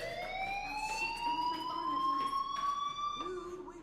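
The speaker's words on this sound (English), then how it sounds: "Hey, do you hear that fire alarm? That means you should be outside." A fire alarm sounds inside a video game, a steady high electronic tone gliding slowly upward with bright overtones, loud and continuous, while faint background game noises mix underneath.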